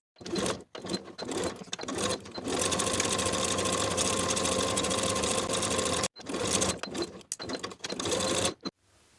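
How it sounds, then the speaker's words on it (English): A sewing machine stitches a blouse collar stand in steady, rapid runs, starting and stopping several times with one long continuous burst in the middle, close and clear. "Sew the collar stand from the bottom around the curves to the opposite bottom with a 3/8 inch seam allowance."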